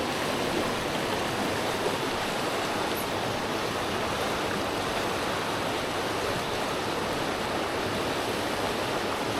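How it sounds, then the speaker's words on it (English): Fast-flowing water of the River Suze in Switzerland, swollen after rain, rushes in a steady, dense broadband roar close to the bank, unbroken and without voices throughout. "This water's a little too fast."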